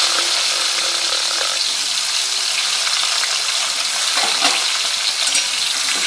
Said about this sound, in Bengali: পটলটায় নুন আর সামান্য হলুদ মাখিয়ে রেখেছি, এগুলো একটু কড়াতে নেড়ে নেব।